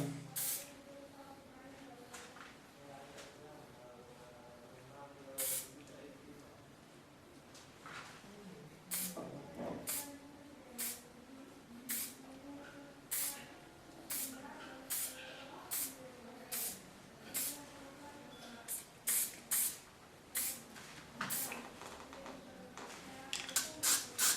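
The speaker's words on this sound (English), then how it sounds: "This hairspray is from Lanza." Lanza hairspray is sprayed onto hair during a haircut: many short, sharp hissing bursts come one after another, growing quicker and more frequent toward the end, with quiet talk in the background.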